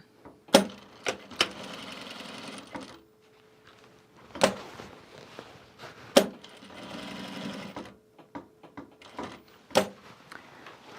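A sewing machine stitches a canvas duffle bag in several short bursts of whirring and thumping, separated by sharp clicks and knocks of the fabric and machine being handled, all fairly close and quiet.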